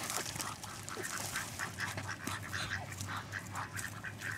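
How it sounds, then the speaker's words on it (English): Mallard ducks quack repeatedly in short, bright calls over a continuous low background hum, the quacks close and fairly loud, with no talking. "Look at those pretty mallard ducks."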